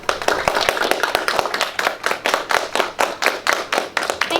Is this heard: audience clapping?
yes